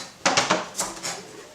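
Knife chopping a peeled, trimmed large carrot on a board in a kitchen, a few close sharp thunks in an irregular burst, then quiet.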